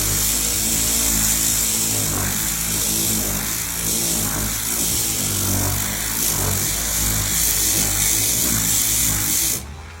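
An Akita 12V cordless car polisher runs at its high speed-8 setting, giving a continuous, steady motor whine with a faint buzzing vibration, close and even, and cutting off abruptly at the end.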